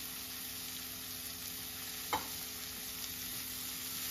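Green chili and garlic sauté in hot oil pushed aside from vegetables in the pan, a quiet, even sizzle with one brief scrape or clink partway through.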